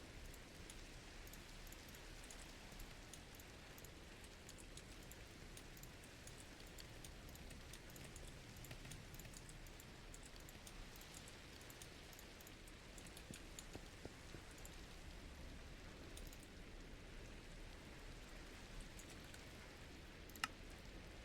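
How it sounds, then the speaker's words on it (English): Steady rain falls in the blocky sandbox game Minecraft, a soft even hiss of drops that runs unbroken from start to finish with no talking. "It's raining here, that's interesting."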